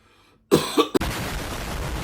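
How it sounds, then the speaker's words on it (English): A quiet moment, then two or three sharp coughs close up, followed by a steady hiss of background noise. "Hold on, I'm going to cough."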